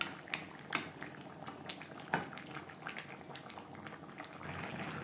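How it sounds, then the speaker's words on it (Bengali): Fish head curry with vegetables simmering in gravy in a pot, giving a soft, steady bubbling with a few faint utensil clinks near the start. "গ্রেভির সাথে মাছের মাথা আরও তিন চার মিনিট রান্না করব"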